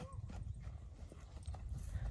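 A horse being ridden on a round, its hooves clip-clopping in a steady rhythm close by, with people talking over the hoofbeats.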